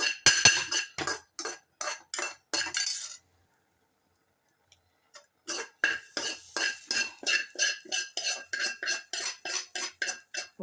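A roasted onion mixture for paavakka theeyal being scooped from a pan onto a plate, a rapid series of sharp metal spoon scrapes and clinks, a pause of near silence, then more rhythmic scraping, close and clear.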